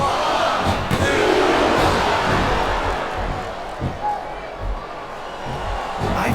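Virtual wrestling arena crowd in SVR 2007 roars in a dense, steady wash of cheering and shouting, with occasional thumps and swells during a match.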